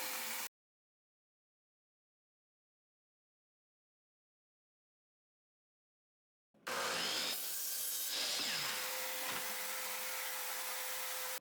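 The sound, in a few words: miter saw cutting 1x4 boards at 5 degrees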